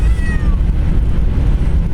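Inside a car driving through St. Louis, a cat gives a short meow early on over the constant low road and engine rumble, which carries on alone afterward.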